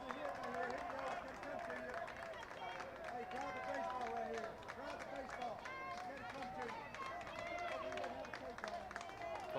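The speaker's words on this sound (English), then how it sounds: "Cardinal crowd making some noise in front of us in the third base dugout area" Baseball crowd at a college game making noise near the third base dugout, a steady murmur of cheering and chatter with scattered claps, heard under a commentator's voice.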